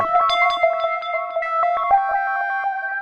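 A distorted MARS tube synthesizer sequence plays quick repeating 16th notes with rapid octave jumps, bright and close, giving a ratcheting, stuttering rhythm.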